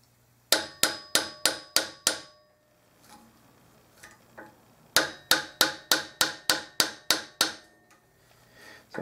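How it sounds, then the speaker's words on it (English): A hammer taps dents out of a brass trombone handslide in two quick runs, about six strikes then a short pause, then about ten more, sharp and ringing, close by. "So I'm just going to tap this all the way around."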